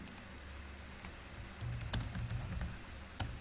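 Soft, irregular clicking of fingers typing on a computer keyboard, close and quiet with no voices.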